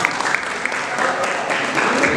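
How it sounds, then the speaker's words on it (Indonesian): A school alumni gathering audience claps together in a brief, steady burst of applause, fairly loud and close, with no clear speech over it. "Luar biasa, tepuk tangan."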